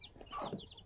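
A mother hen on a backyard farm gives a short burst of clucking at close range, lasting about a second with a soft fluttery tone and no voices.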